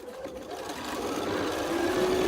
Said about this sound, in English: And I sew, by the way, seam to seam, not end to end